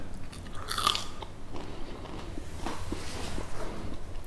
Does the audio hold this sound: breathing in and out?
no